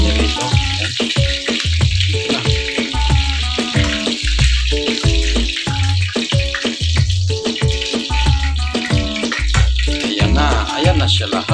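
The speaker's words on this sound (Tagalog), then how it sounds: "ito na ang aking tilapia na pinipirito" Tilapia frying in a pan makes a constant hissing sizzle, heard under loud rhythmic music with a thumping bass line.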